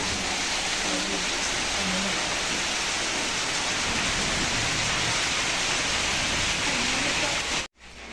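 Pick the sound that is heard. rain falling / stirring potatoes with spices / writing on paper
rain falling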